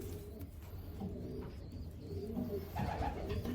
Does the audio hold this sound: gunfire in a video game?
no